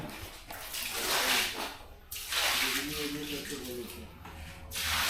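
Water pours and splashes over a small handmade model house, in bursts of broadband rushing with a brief pause, while a voice talks over it.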